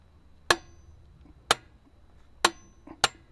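A wheel lug nut is tightened with a torque wrench, giving four sharp metallic clicks spaced about a second apart, close and crisp against a quiet background.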